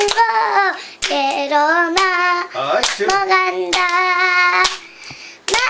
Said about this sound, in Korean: 박수 쳐줘